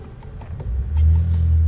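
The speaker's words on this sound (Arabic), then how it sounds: "بص صوت الموتور" A car engine hums low and steady, swelling louder and deeper partway through as it works harder, with faint rhythmic ticking above and no talk.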